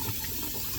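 A water tap runs at a steady, moderate level while hands are washed under it.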